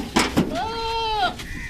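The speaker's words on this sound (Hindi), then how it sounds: "ये 25 नंबर पे बकरा जा रहा है।" A goat bleats once, a drawn-out, wavering cry close by while it is loaded onto a vehicle, preceded by two quick thuds and set against busy background noise.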